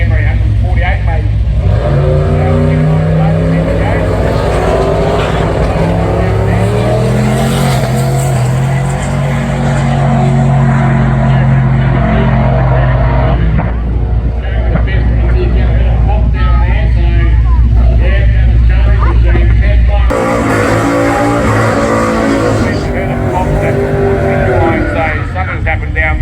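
Drag race cars, among them a Commodore, roar and rev at a street drags event at the Dragway at the Bend, a loud continuous engine drone throughout with an abrupt surge near the end, under crowd noise and talk.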